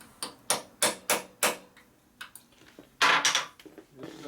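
Sharp metallic hammer blows strike a tight nut on a 2001 Gilroy Indian Chief motorcycle during a rebuild, five loud evenly spaced hits followed by lighter taps and a ringing cluster of strikes, close by with no talk.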